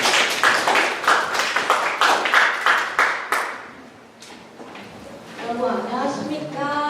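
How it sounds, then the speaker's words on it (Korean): An audience at a Korean speaking contest for foreign students claps loudly in a lively burst that dies away after a few seconds, followed by a voice speaking close to the microphone. "바로 큰 박수로 모시겠습니다."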